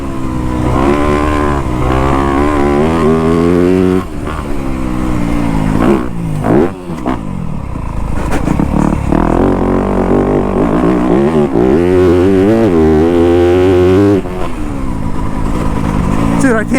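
A 2025 Yamaha YZ250F dirt bike revs hard through corners on a riding track, its four-stroke engine loud and close, rising and falling with throttle blips and shifts while a voice talks over it.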